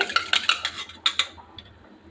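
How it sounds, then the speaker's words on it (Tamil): A metal spoon clinks and scrapes against a pot while curd is stirred for chicken biryani, a quick run of bright taps and knocks, close and alone, tapering off after a second. "தயிரை நல்லா கலக்கிட்டு"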